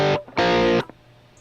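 An electric guitar with a dirty, distorted tone plays through a plugin. Two short, loud chord stabs each cut off sharply, followed by quiet room noise.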